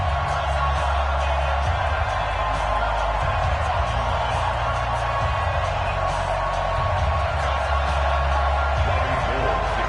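A dense, steady roar of a pumped-up stadium crowd in an EA Sports NFL video game before a Redskins versus San Francisco 49ers matchup, continuous and loud throughout, with an announcer's voice running over it.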